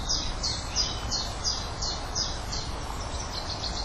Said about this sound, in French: Des mésanges à longue queue.